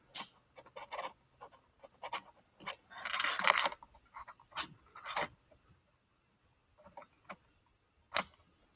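Scissors snip a fishing line tag end beside a knot, giving several quiet, sharp clicks at irregular intervals with a brief rustling scrape midway and stillness between cuts.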